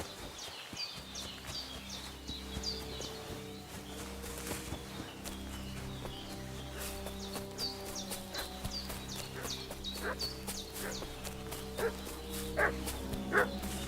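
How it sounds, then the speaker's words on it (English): Dog barking in the video game Kingdom Come: Deliverance II, repeated sharp barks over a steady ambient game soundscape with footsteps and clip-clopping hooves, moderately distant and continuing throughout. "What's that dog making such a fuss about?"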